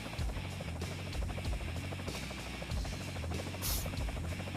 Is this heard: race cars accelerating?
no